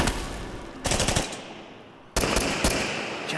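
Two loud bursts of gunfire, like staged shots of a father shooting his son, each a sharp blast with rattling repeats and a long decaying tail, heard alone without speech.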